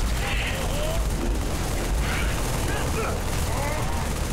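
Sustained gunfire during a Halo 3 battle with many allied NPCs, a steady wash of shots and blasts under excited voices talking over the fight.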